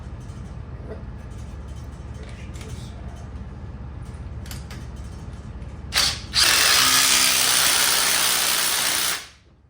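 A ratchet with an extension tightens the front strut bolts on a 2015-2023 Jeep Renegade during strut replacement. A low mechanical grind runs through the first part, then a loud, bright ratcheting burst lasts about three seconds, close up, with no talk.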